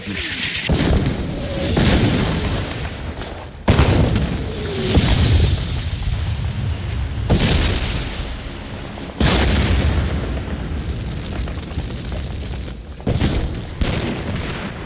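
Heavy artillery bombardment at Khe Sanh during the Vietnam War, with repeated loud, booming blasts and bursts recurring across the span, low rumble sustained between impacts and a faint voice in places.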